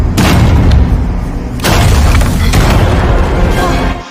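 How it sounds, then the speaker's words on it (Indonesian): A machine explodes in the Wednesday series: a loud, sustained booming roar that surges twice, with rumbling debris filling the whole stretch. "Melihat keadaan mesin milik Isaac yang akan meledak, mereka semua pun bergegas untuk meninggalkan tersebut sebelum ledakan."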